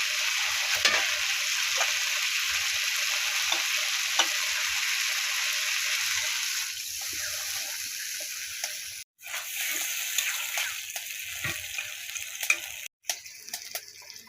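Dried fish frying with beans, onion paste and cumin paste in a pan, a loud continuous close sizzle and hiss with faint ticks of stirring, briefly cutting out twice.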